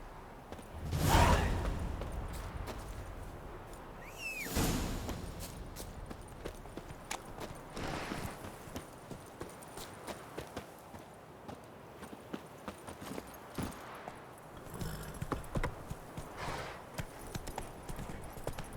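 Roach, a horse in The Witcher 3, clip-clops along with hooves thudding in a steady rhythm under ambient game sound, joined by a couple of louder whooshing swells.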